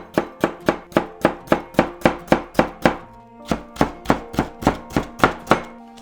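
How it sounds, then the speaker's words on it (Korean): A knife chops potatoes into thin julienne strips for kimchi pancakes, a fast, even run of crisp thunks on a cutting board, close and distinct, with a brief pause partway through. "감자 있는 거 이렇게 먼저 채 썰어주고"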